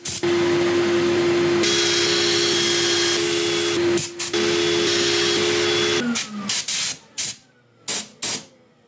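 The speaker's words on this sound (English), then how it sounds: "I'm going to set up for sanding. I'll let you watch a bit of it" Sanding a turning London plane wood piece on a lathe: a loud, steady whirring hiss with a high tonal whine runs continuously, then breaks into short bursts that start and stop near the end.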